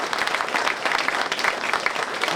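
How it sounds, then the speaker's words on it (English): Crowd at a building topping-off ceremony applauding construction tech students, continuous outdoor-sounding clapping from many people with slight fluctuations, no talk over it. "Can we give them a huge round of applause for our construction tech"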